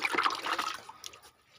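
Water is poured quickly into compost-filled plant pots, giving a short, soft splashing trickle that fades out after under a second with a few faint drips.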